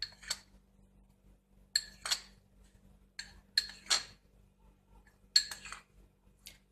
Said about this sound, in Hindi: इसको अच्छी तरीके से मिक्स कर लेते हैं।